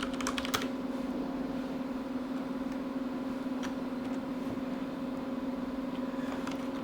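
A few scattered keystrokes on a computer keyboard as a password is entered, faint clicks over the loud, steady fan hum of an SGI Octane workstation, with no one speaking.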